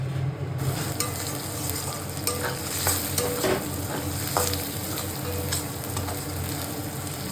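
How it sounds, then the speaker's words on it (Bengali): Fish fat fried with potatoes and onion in a pan makes a continuous close sizzle, broken by frequent scraping and tapping of a spatula stirring against the metal. "মাছের তেল আলু দিয়ে ভাজছি"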